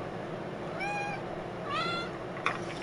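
A cat in the GTA video game meows twice in quick succession, fairly faint against a steady background hum of city ambience, with a brief click after the second meow.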